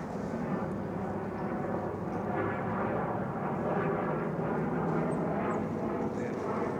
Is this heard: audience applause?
no